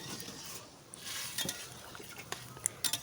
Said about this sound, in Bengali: ভালো করে নেড়ে চেড়ে